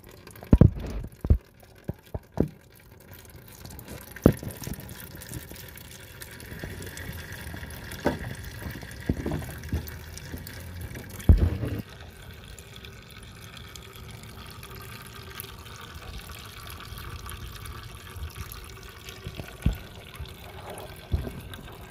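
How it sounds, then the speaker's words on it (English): Coolant drains from a 2005 Toyota Prius radiator into a bucket, a steady soft trickle and patter with a few sharp clanks and knocks early on, with no talk. "open up the cap for the radiator, and see if it'll drain faster."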